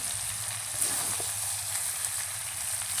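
Chicken pieces slow-fried until the oil separates sizzle in a pan, a steady, close crackling hiss with a faint stir or knock partway through.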